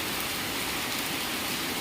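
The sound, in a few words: rain falling outside a Shiva temple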